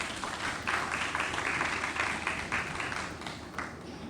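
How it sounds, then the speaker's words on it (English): A room full of people applauds at a mental health awareness conference, a steady, dense patter of clapping that holds for about four seconds before thinning slightly at the end. "Please, a round of applause for him."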